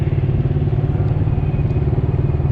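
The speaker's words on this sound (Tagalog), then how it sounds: "yung isang motor dire diretso hindi nakapagpreno" Motorcycle on a road riding straight on without braking, with a steady, loud, close engine rumble and rhythmic clatter throughout and no voices.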